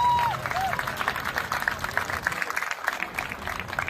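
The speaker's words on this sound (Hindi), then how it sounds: "साथियों एक बार अंशकारी के लिए जोरदार तालियां बजाओ।" Crowd at a political rally in India claps and cheers after a call for loud applause; rapid, dense clapping rises and falls throughout, with some voices and a faint whistle-like tone near the start.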